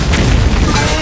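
A bomb explodes in a fantasy video game, a dense, loud boom that fills about a second and sits under a voice speaking over it.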